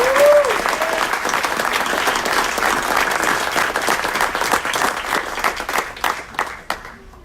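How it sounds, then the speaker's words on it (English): A council meeting audience breaks into a sustained round of applause, dense steady clapping filling the room and tapering off near the end, with a brief voice heard at the start. "If you can please give a round of applause for Nate Fitzenreeder."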